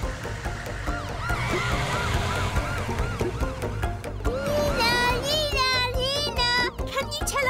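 A cartoonish wailing siren on a rescue vehicle in Dr. Panda's animated series rises and falls rapidly over bright background music, with children's voices chattering along.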